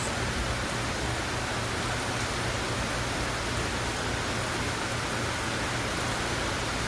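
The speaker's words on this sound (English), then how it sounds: "The sound of the rain is very relaxing." Heavy rain driven by strong wind pours steadily off a roof in big drops, a dense, loud, unbroken hiss with no pauses throughout.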